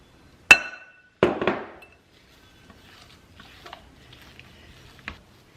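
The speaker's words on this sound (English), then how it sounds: "I always have the worst time whisking with a damn whisk" A whisk clinks sharply against a bowl: two loud, bright metallic taps near the start, then a scatter of softer, faint ticks and scrapes over the next few seconds.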